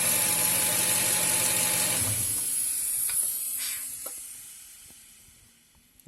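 Air hisses from a vacuum leak on a 2000 Toyota Tundra engine: a loud, steady broadband hiss for about two seconds, then a much fainter hiss with scattered light clicks and taps.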